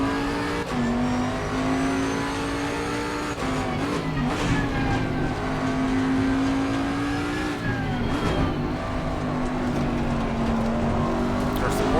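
A Porsche race car in a racing video game at Zandvoort holds a steady, loud engine drone with shifting pitch through corners and gear changes, while someone talks over it.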